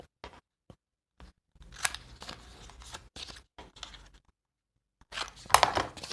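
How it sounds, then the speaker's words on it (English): Scissors snip the corners off a sheet of paper for a trifold folio craft project, a series of short crisp cuts with pauses between them, close and fairly loud with no talking. "Remember to cut the corners off it this time."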